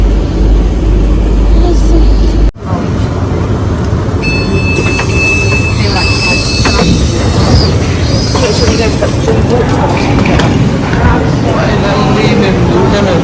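A London train heading towards Luton rumbles steadily and loudly, with a constant roar of wheels on rail and a thin high squeal partway through, while voices talk over it.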